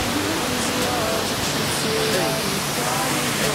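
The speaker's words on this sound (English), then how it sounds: "And that is the mini waterfall." Snoqualmie Falls, a large waterfall, rushing as a steady, dense broadband roar that stays constant and loud throughout, with faint tonal traces of distant voices mixed into the wash.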